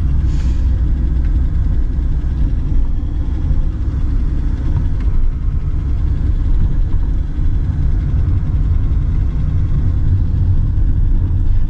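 A 1970s BMW E12 528i with a 177 hp straight-six and four-speed manual, heard from inside while driving: a steady, close low engine rumble and drone that holds evenly throughout with no talk.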